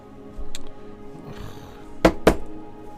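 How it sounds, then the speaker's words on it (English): Two sharp, close snaps sound as a pencil tip breaks inside a pencil sharpener, with quieter scraping and a soft thump just before. "I hate it when the pencils break though"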